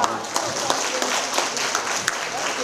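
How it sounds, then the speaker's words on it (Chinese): Audience applause for a model mother and daughter-in-law at a community honoring ceremony, a steady wash of clapping from a crowd heard at moderate distance, continuous with scattered sharper claps. "我们要鼓掌一下啊！"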